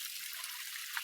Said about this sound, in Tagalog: Tatanggalan muna namin ng tubig mga kabukid.